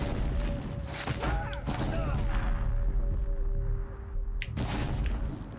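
Explosions and crashing blasts in the video game Horizon Zero Dawn, several loud booms with a sustained ringing tone between them, close and heavy, mixed with game effects.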